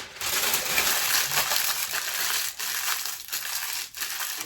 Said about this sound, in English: I'm gonna crumple it up.